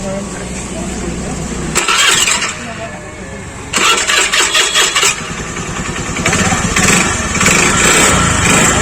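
A motorcycle engine starts up after a hard-starting fault, revving in loud bursts that cut in and out, settling into a running rumble; a voice talks faintly underneath.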